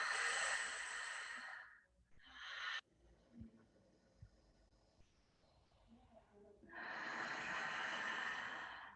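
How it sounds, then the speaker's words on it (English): Ujjayi breathing in a restorative yoga flow class: long, hissing, ocean-like breaths close to the mic, one extended exhale at the start, a shorter one after, then a quiet pause and another long breath. "Keep on breathing your ujjayi breath."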